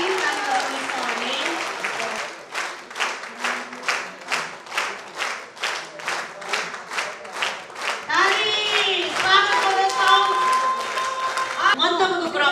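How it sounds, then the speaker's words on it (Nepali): A church congregation claps to welcome a pastor at a large gathering, starting as a steady rhythmic beat of many hands in unison, then giving way to chanting voices and a singer over music. "जोरदार तालीले स्वागत गर्नेछौँ। ताली ताली ताली गर्नेछौँ हामी।"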